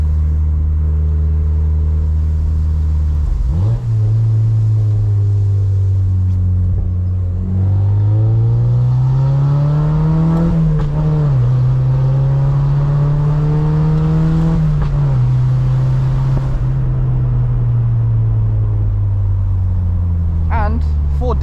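A Mazda MX-5 2.0L engine drones steadily and rises and falls in pitch as it revs while driving, loud and close throughout, with no talking.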